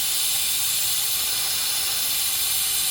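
A leaking boost line on a turbocharged Cadillac Escalade gives off a loud, steady, close hiss of escaping air that holds unchanged throughout.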